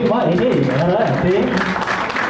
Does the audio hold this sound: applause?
yes